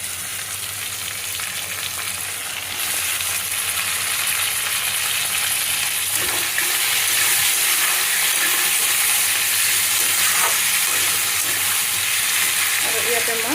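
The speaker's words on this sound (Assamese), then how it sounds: "এতিয়া ইয়াতে টমেটো দি দিম।" Potatoes and tomatoes fry together in oil in a pan, a loud, steady hiss and crackle that swells after the tomatoes go in, with occasional stirring scrapes and no talk.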